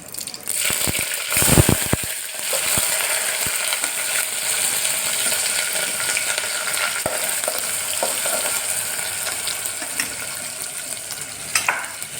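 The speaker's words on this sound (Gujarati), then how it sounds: "જીરું નાખીશું અને એમાં ડુંગળી ને બટેકા જે સમાયેલા છે એનો આપણે વઘાર કરીશું" Cumin, onion and potato sizzle in hot tempering oil for a mixed-vegetable dhaba-style khichdi, a loud steady hiss with spoon scrapes and clinks throughout, heaviest with a burst near the start.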